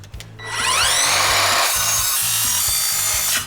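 Steady back-and-forth hand sawing through wood for a table leg repair, loud and close, with rhythmic rasping strokes repeating for several seconds and no talking.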